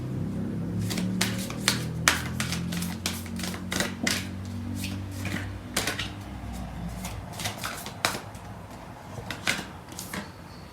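Tarot cards are shuffled by hand in close, quick riffling bursts, a rapid series of crisp flicks and taps repeating over a soft low background; no talking.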